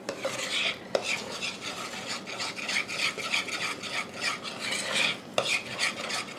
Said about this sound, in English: Just keep mixing until you have the flour stirred in.